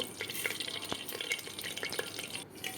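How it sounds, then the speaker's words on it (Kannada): Mustard seeds tempering in hot oil inside a cooker crackle and pop in quick, irregular bursts over a soft sizzling hiss, close and fairly quiet, with no talking. "ಒಗ್ಗರಣೆಗೆ ಸಾಸಿವೆ ಹಾಕಿಕೊಳ್ಬೇಕು"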